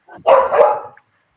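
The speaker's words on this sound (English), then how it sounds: "Oh, he's barking at me, Shake." A dog gives a single loud, close bark lasting under a second, with nothing else around it.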